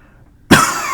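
Silence, then a sudden loud cough bursts in close to the listener halfway through and rings out briefly.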